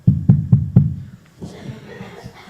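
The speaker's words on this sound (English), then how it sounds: "there was a knock on the cathedral door." Four firm, evenly spaced knocks on a cathedral door at Notre Dame ring out close and loud, followed by a quieter stretch of low murmuring.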